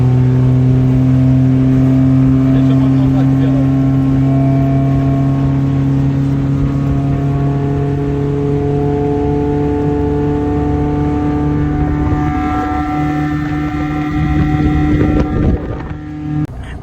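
Motorboat fitted with a swapped BMW M42 engine accelerating on the water, a loud, steady droning engine note that climbs in pitch, with wind buffeting and a rougher burst near the end.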